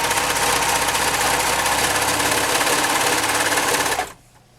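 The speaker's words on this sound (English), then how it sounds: "so I'm just going to go ahead and sew this" A mini handheld sewing machine stitches through fabric with a steady, rapid, buzzing mechanical chatter, close and loud for about four seconds before stopping abruptly.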